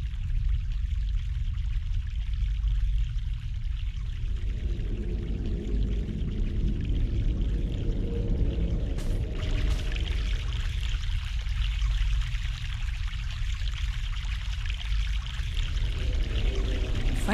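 Fresh mountain water pouring and streaming steadily in The Longest Journey, a continuous close splashing flow that swells in the middle and holds at an even loudness throughout, with no voices.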